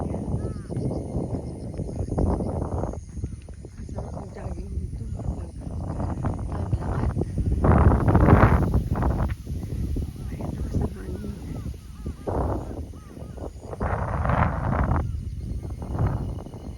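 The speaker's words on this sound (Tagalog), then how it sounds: "Ang lakas po ng hangin." Strong gusts of wind buffet a wide sunflower field, coming as loud roaring bursts that rise and fall over the whole stretch, with a voice heard briefly.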